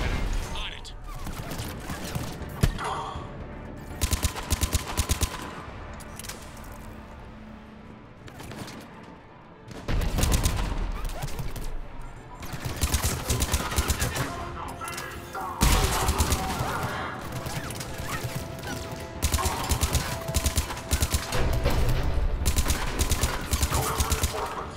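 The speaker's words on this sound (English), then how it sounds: "The cannon fire is clearing the way." Cannon fire and gunfire in the video game Mass Effect 3 during a battle, heard as dense, continuous volleys of shots and booming blasts with brief lulls, mixed with in-game voices.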